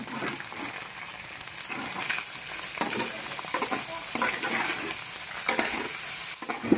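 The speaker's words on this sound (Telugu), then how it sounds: "కొద్దిగా పసుపు అల్లం చుల్లిపాయ పేస్ట్ శుభ్రంగా తిప్పుకోవాలి" A turmeric, ginger and onion paste fries in a pan with salt for a goat blood fry, crackling in a steady sizzle while a utensil scrapes and stirs it at close range.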